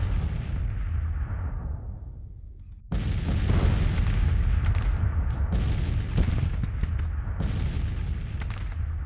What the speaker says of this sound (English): Artillery seems to be doing their job here with these Napoleons